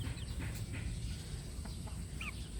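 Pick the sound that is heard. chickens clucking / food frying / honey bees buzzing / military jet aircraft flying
chickens clucking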